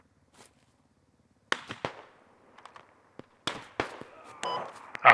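Gunfire in the video game CAF Gorodok: scattered sharp cracks and pops in irregular bursts, some close and some farther off, building to a denser cluster near the end.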